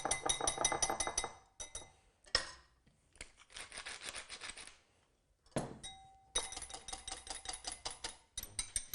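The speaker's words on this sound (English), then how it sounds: "So the beaten egg with the corn flour and the black pepper is beaten up so it's quite fluffy, nice and light." A fork or whisk beats egg, corn flour and black pepper into a light, fluffy batter, with bursts of rapid clinking against the bowl separated by short pauses, close and fairly quiet.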